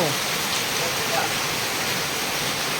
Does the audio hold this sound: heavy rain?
yes